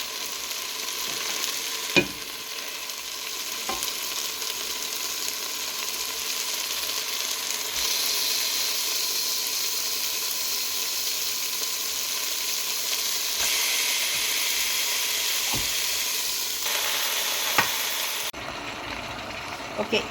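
Mutton tipped into a pan of cooking tomatoes sizzles and fries steadily while it is stirred, with occasional spoon scrapes and clinks against the pot, close and continuous.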